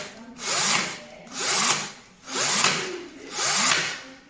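An Einhell TE-CD 18 Li E cordless drill gives off an odd, faulty-sounding noise in four loud, close bursts of roughly one second each, evenly spaced, with a whirring, rubbing quality and no talk over it.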